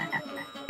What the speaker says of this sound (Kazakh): Бақа.